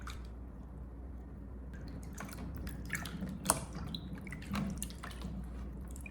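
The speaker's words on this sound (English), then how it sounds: "gently stir them, and begin thoroughly rinsing each one to completely remove any impurities" Grapes being rinsed by hand in a bowl of water, with gentle sloshing, drips and splashes building in the second half, close and fairly quiet with no talking.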